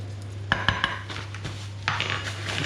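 Metal spoon clinking and scraping against a pot while flour is stirred into a beef bourguignon stew, a few sharp close taps followed by softer swishing scrapes over a steady low hum.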